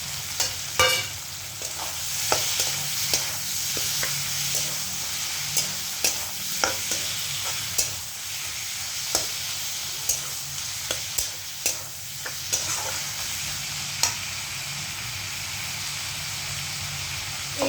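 Tomatoes fry in a pan with a steady sizzle while they are stirred repeatedly, giving sharp scraping clinks at an uneven rhythm. The sound is close and continuous, with no talking.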